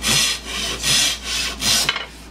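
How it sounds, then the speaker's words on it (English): A pull saw cuts wood held against a stop block on a bench hook. Four loud, close rasping strokes pass in quick rhythm, then a couple of small taps. "Bench hook set up here for my pull saw"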